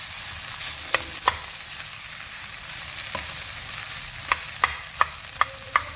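Spiced samosa filling seasoned with salt, chili and black pepper, stirred in a pan over low heat: a soft background hiss broken by a few sharp spoon scrapes and taps against the pan.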